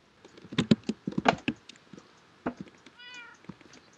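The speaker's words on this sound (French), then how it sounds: "En plus, il a bien fait miaou" A cat meows in the Minecraft video game with a short, quiet, clear cry amid rapid patter of keyboard typing and clicks nearby.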